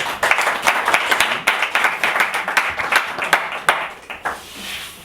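Applause at a general assembly for the unanimously elected president, scattered hand claps from a modest group with distinct, uneven individual claps that thin out and fade near the end.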